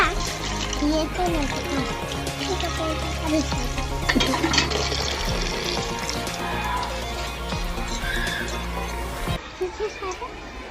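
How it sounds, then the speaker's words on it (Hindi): Water pours steadily from a vessel as an offering to the sun during a Karwa Chauth puja, a continuous splashing stream with people talking over it before it stops near the end. "अभी हम लोग सूरज को पानी डालते हैं।"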